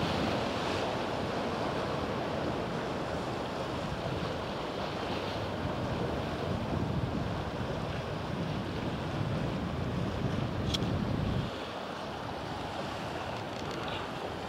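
Waves wash continuously onto the beach at Traeth Lligwy, Anglesey, a steady broad surf roar with wind buffeting the microphone, easing slightly near the end.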